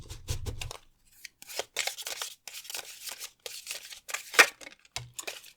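Tarot and oracle cards shuffled by hand in quick, crisp riffles and slides, close and clear in a quiet room, with a brief low thump at the start and another near the end.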